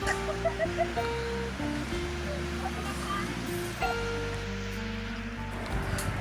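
Sea waves wash onto Shrivardhan beach in a continuous surf rush, while voices talk and call out loudly over it throughout.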